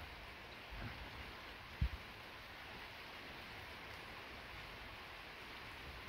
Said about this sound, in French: J'ai l'impression d'entendre la pluie. Ou alors c'est le vent.